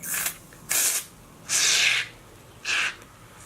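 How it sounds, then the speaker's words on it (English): Four short hissing bursts of Marc Anthony dry shampoo aerosol spray into a hand, close by, with brief pauses between them and one longer spray in the middle. "I'm just going to spray a little bit in my hand."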